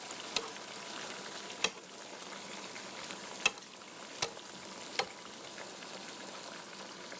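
Food frying in a pan with a faint, steady sizzle and occasional sharp clicks, heard quietly and close by.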